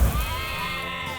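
Sheep bleating in a cartoon dragon setting, a sustained wavering call that dominates briefly with no talk over it.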